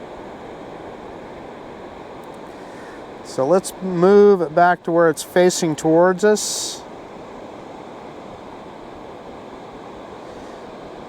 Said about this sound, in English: It's fairly windy.